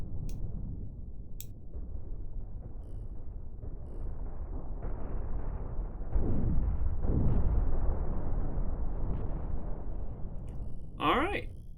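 Missile explosions in the space combat game Cosmoteer, a steady rumbling barrage of low booms swelling louder midway, with a sharp crackling burst near the end and a voice talking over parts of it.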